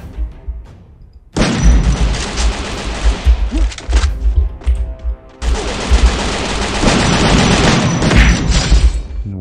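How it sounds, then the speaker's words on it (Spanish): Bursts of rapid automatic gunfire from the Free Fire battle royale game, loud and close, in two long sustained volleys separated by a brief lull. "Escuché disparos por este"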